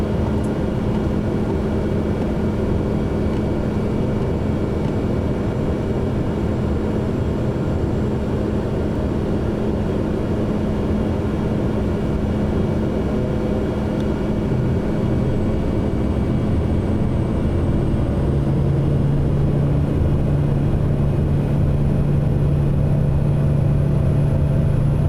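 A steady turboprop drone from a Pilatus PC-12 on its takeoff roll in the flight simulator MSFS 2024, a continuous loud engine hum with a low tone that shifts upward partway through as power builds, with no talk.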